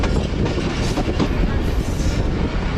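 The Allama Iqbal Express approaching Landi Junction: a loud continuous rumble of rolling wheels and carriage noise with faint rhythmic clatter, heard from on board.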